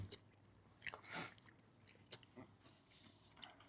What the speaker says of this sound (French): tu dois croquer sur le côté alors